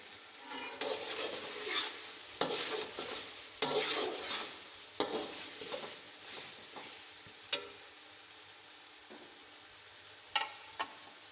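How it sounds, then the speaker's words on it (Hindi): Potatoes fry in masala in a pan for aloo moongre, with repeated close scraping stirs over a constant sizzle and occasional sharp metallic knocks of the spoon. "मसाले में 2-3 मिनट के लिए मैंने आलूओं को भून लिया है।"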